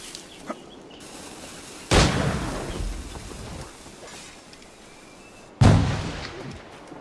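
A grenade goes off in Assassin's Creed 4, heard as two heavy blasts with rumbling tails a few seconds apart over a steady background hiss of the game scene.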